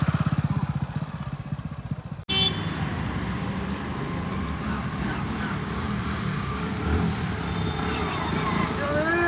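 A motorcycle engine revs hard nearby, a loud sustained rumble that rises and falls in throttle bursts after a short pause, with people talking over it.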